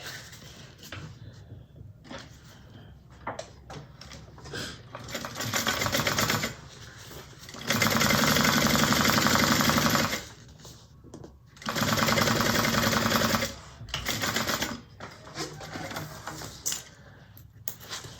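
A sewing machine top stitches through a bag lining in several loud, close bursts of rapid whirring stitching, separated by quieter handling pauses.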